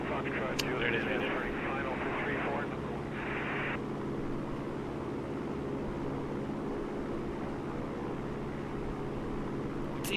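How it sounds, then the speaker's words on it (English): A Piper Cherokee light airplane drones steadily in flight on a test flight, heard from inside the cabin as a constant engine hum with a voice talking over it early on. "See, not the fastest airplane in the world."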